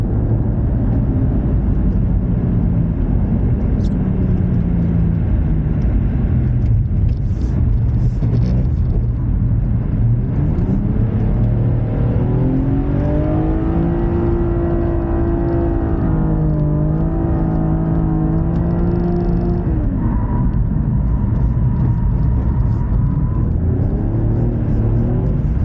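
A BMW M135i drifts around the Chambley track, its engine loud and close with a sustained high rev that climbs and falls in long sweeps as the car holds the slide and then exits it.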